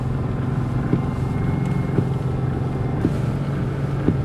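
A 2000 Subaru Outback driving through a snow blizzard, with a steady, loud engine drone and road rumble inside the car, faint periodic thumps and constant wind noise.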